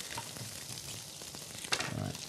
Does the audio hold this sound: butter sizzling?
yes